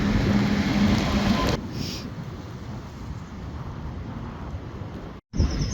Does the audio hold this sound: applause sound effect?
no